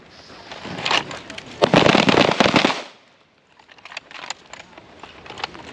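Gunfire from shooters at a firearms instructor training range, a dense cluster of loud sharp cracks over about three seconds, then sparser, quieter shots trailing after a brief lull.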